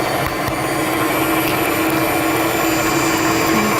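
An electric stand mixer beats cake batter with eggs in a home kitchen, giving a loud, steady mechanical whir that runs unbroken and close up, with no voices.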